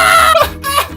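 A loud, close human voice imitates a crying baby with two wavering, wailing cries in quick succession.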